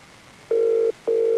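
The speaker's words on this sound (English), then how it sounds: "You have 30 seconds to leave your message after the beep." A telephone answering machine gives two steady electronic beeps, the first short and the second held, clear and close in an otherwise quiet line.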